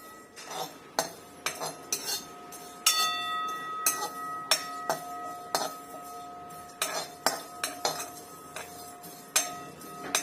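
Whole spices roast in a pan for Maharashtrian katachi aamti, heard as a series of bright metallic clinks and taps of utensil on pan with ringing overtones over a quiet background.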